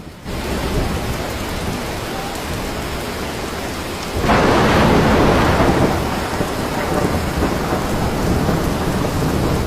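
Thunderstorm with heavy rain and hail in France, a dense steady roar of rain pounding surfaces that swells noticeably louder halfway through, close and continuous with no voices.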